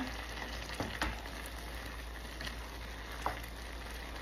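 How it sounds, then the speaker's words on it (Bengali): Boiling khichuri bubbles and sizzles steadily in a pot as green chilies and bay leaves go in, with a few soft plops and clinks. No one speaks. "বলক চলে আসছে, এখন দিয়ে দেবো কাঁচামরিচ, তেজপাতা।"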